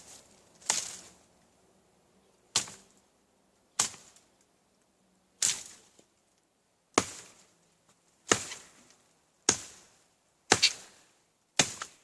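A coupe coupe machete hacks through thick brush in nine sharp, separate chops spaced roughly a second or two apart, each a crisp close impact with a short rustle of foliage after it, in an otherwise quiet outdoor setting.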